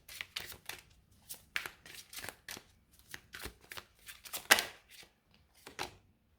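A tarot deck is shuffled by hand for a card reading, producing a quick run of close papery slaps and riffles in uneven bursts, with no speech.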